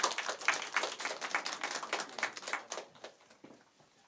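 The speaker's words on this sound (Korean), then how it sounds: "우리 축하의 박수 늦었지만 한번 하고요." A church congregation claps in celebration during a Sunday service, with a lively patter of many hands that starts strong and fades out over about four seconds.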